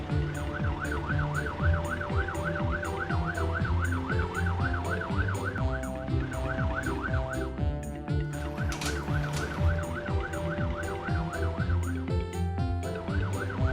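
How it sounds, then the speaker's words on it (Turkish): A cartoon fire truck sounds its siren, a loud, repeating two-tone wail close by over a background of music, with brief chimes and sparkling sound effects partway through. "Sırada itfaiye arabası var. sireni açıyor."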